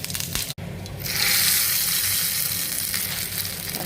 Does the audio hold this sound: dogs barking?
no